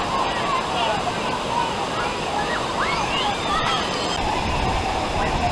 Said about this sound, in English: When I kick the water all over